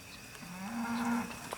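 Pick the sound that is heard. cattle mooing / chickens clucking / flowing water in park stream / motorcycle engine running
cattle mooing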